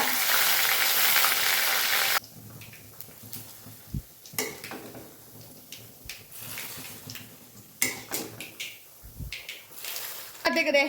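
A loud burst of sizzling as onions, green chillies, garlic and curry leaves hit hot oil together, settling into softer frying with scattered clinks and stirring.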